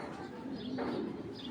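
A young male army pigeon, a squab only about seven days old, gives soft, low cooing close by, a steady murmuring call with a brief swell near the middle.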